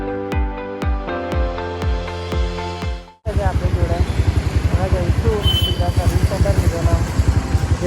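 A Hero Xpulse motorcycle engine runs with a steady, rapid, pulsing putter after a few seconds of ringing tonal notes, staying loud and close throughout.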